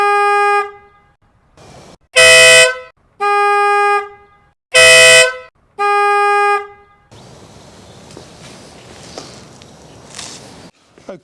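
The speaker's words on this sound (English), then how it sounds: "this is now test number 5 with the Sound Bomb Mini." A Denali Sound Bomb Mini car horn sounds five loud blasts of about half a second each, evenly spaced and alternating in strength, followed by quiet outdoor background.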